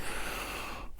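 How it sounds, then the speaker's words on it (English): Several close, breathy sniffs of osmanthus essential oil taken before meditating, a steady airy inhalation sound close to the microphone, with no talking. "have a good couple of sniffs before I start meditating"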